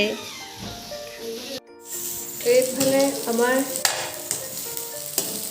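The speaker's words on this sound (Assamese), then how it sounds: "তাজা তাজা মছলি এতিয়া ফ্ৰাই কৰি থকা হৈছে" Fresh fish sizzles loudly in a frying pan, oil crackling and hissing throughout, while a person talks over it.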